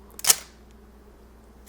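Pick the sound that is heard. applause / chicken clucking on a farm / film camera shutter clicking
film camera shutter clicking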